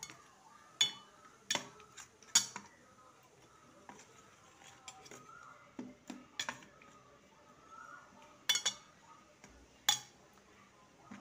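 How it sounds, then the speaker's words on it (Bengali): A spoon scrapes and clinks against a bowl while pumpkin paste is mixed with spices and sugar, with several sharp metallic knocks spread irregularly through otherwise quiet stirring. "এবার এটাকে ভালো করে মিশিয়ে নেব।"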